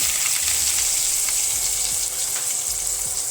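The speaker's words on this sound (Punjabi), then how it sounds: "ਜੀਰਾ ਤੜਕ ਗਿਆ ਹੁਣ ਇੱਕ ਆਪਾਂ ਇੱਥੇ ਦੋ ਪਿਆਜ਼ ਕੱਟ ਲਏ ਸੀ ਬਰੀਕ ਤੇ ਪਿਆਜ਼ਾਂ ਨੂੰ ਪਾ ਦੇਵਾਂਗੇ ਆਪਾਂ" Finely chopped onions hitting hot oil with tempered cumin, a loud steady hiss and crackle of frying that holds evenly throughout with no talking.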